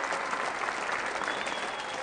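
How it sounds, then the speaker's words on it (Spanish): A studio audience at a comedy show claps steadily, a dense unbroken wash of applause, loud and close. "Que no me aplaudan."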